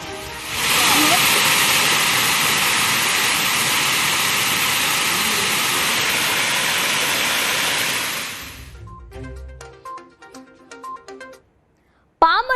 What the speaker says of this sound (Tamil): சோழன்குளம் கண்மாய் முழுமையாக நிரம்பி மறுகால் பாய்கிறது நீரானது தடுப்பு சுவரை தாண்டி மறுகால் பாயும் நிலையில்